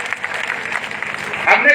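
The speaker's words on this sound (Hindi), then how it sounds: "जोरदार ताली बजा के इनका स्वागत करें" Applause welcoming Sudeep Rajbhar at a political speech event in Maniar, Ballia, a crowd's clapping that swells loudly near the end after a stretch of talk over scattered claps.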